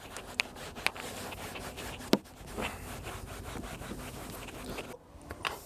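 A microfiber cloth is rubbed across a car seat in a quiet interior, giving soft, close scratchy wiping strokes with a few sharp little knocks.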